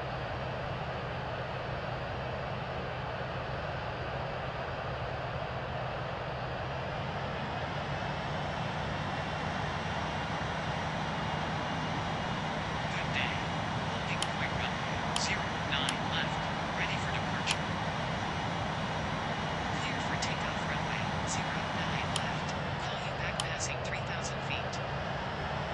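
An airliner takes off from runway 09 left at a London airport, its engines giving a steady, loud roar throughout, with brief higher hiss bursts partway through and radio and cockpit voices speaking over the top.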